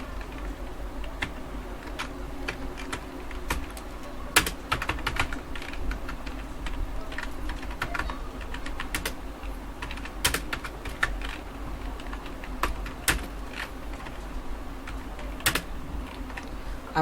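Keys clatter on a computer keyboard as text is typed, a steady stream of light clicks with occasional louder strikes, close and without talk.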